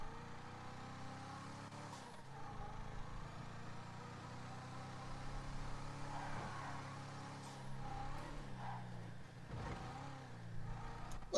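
Car engine in the FiveM video game, a turbocharged old banger with modifications, running steadily throughout with swells of revving and acceleration, with faint voices now and then.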